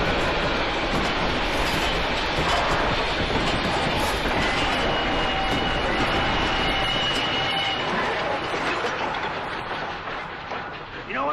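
Train rolling along a railroad in a Western film, a loud continuous rumble with rhythmic clatter of wheels on track that eases off slightly toward the end.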